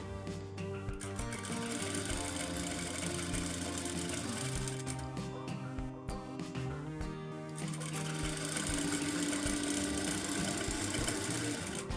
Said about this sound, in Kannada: ನಾನು ಇಷ್ಟು ಚಿಕ್ಕದಾಗಿ ಸ್ಟಿಚ್ನ ಹಾಕ್ಕೊಳ್ತಾ ಇದ್ದೀನಿ